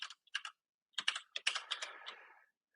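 A computer keyboard being typed on at close range, with a few quick bursts of crisp key clicks separated by short silences.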